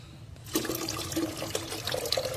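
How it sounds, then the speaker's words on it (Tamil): Ordinary tap water being poured and mixed into a container, for a zebrafish breeding tank setup; a steady close splashing and trickling liquid sound runs through, with no talking. "ஒரு அரை பங்கு நார்மல் தண்ணியை வந்து ஒரு அரை பங்கு நான் கலக்க போகிறேன்"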